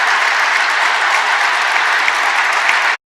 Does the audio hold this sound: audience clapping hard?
yes